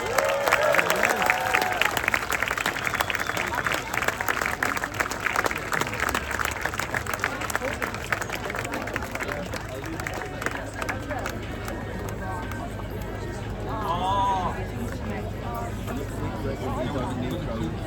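Crowd applause and cheering at the Ultra-Trail Australia finish line for an arriving runner, sustained clapping and shouts from spectators, with an announcer talking over it and chatter later on.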